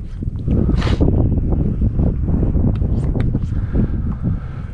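Wind buffets a fishing boat on Rock Cliff Reservoir, a loud continuous low rumble of gusts hitting the microphone, with faint rustles and knocks over it.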